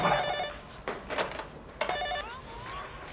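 A telephone rings with repeated short electronic trills in quick bursts, moderately loud and close in a domestic drama scene, and nobody speaks.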